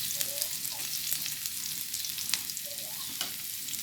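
Garlic and onion sauté in a pan for ginataang laing with taro, giving a steady soft sizzle with a few light stirring scrapes and clinks, fairly quiet and close, no voices.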